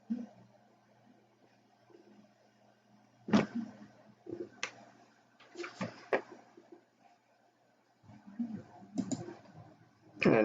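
A password is typed on a computer keyboard in a quiet room: scattered sharp key clicks in short bursts separated by pauses, close and fairly faint, with a low hum underneath.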